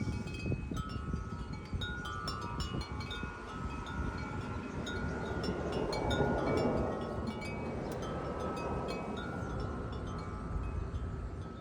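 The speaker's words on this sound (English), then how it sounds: "The wind just started blowing." Wind gusts steadily across an outdoor microphone, a continuous broad roaring rush that swells slightly around the middle and stays strong throughout.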